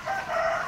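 A rooster crows close by beside a backyard catfish drum pond, a single short strained call, loud and alone.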